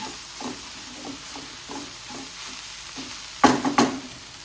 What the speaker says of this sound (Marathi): अशी स्लो फ्लेमवर ही भाजी थोडी शिजवली तरीही चालेल